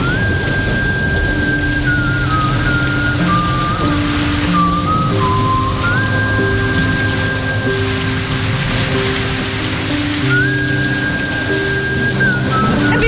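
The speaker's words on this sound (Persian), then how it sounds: "فکر کنم باران میباره" Steady rain falls as a dense, continuous hiss throughout, with a sustained whistling melody and soft tones played over it, no speech.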